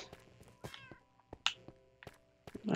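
Video game cat meowing in a dark game level, a few short meows with soft clicks and footsteps, fairly close and quiet.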